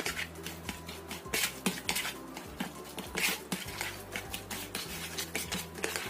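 A spoon stirs a food mixture with an egg in a bowl, repeated scraping and clinking strokes in a steady rhythm, close and clear with no talk.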